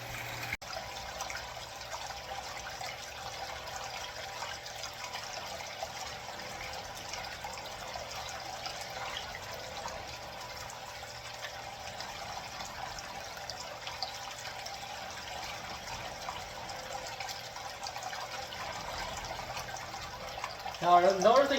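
Water from a pump runs steadily over a gold sluice mat while buckets of material are processed, a continuous wash-and-trickle that holds level throughout before a brief louder splash at the very end.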